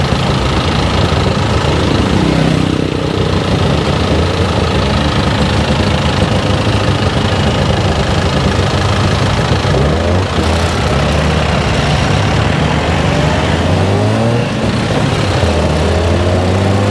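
A tuk-tuk engine drones steadily and loudly through a ride in Chiang Mai, its idling rumble and rattling vibration continuous and close, with no voices over it.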